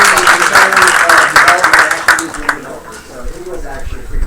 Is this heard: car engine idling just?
no